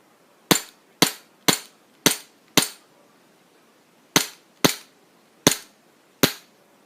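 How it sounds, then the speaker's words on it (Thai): Nine crisp, sharp snapping dry-fire shots from a small VFC Glock 42 airsoft pistol, five in quick succession, a pause, then four more, close and loud. "เดี๋ยวเรามาดูการยิงแห้งกันนิดนึงแล้วกันนะครับผม"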